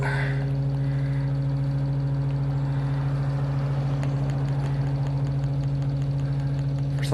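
A motor on a long-abandoned project runs steadily after being switched on, a loud constant hum with strong tonal bands, no voices over it.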